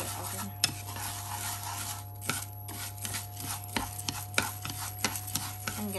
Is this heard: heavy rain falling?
no